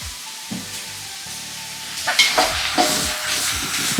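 Onions sizzle in a frying pan for a hotel-style chicken dish, with steady frying hiss and repeated scraping and clattering of a stirring spoon that grows busier toward the end, close and fairly loud.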